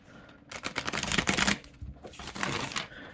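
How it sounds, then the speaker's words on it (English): A tarot deck is riffle shuffled in two bursts of close, crisp, slightly clumpy card flutter, the second shorter and softer, with no talking. "Because of the way the cards were cut, they are pretty even, but it does, when riffling, have a clumpier riffle, which you can definitely hear."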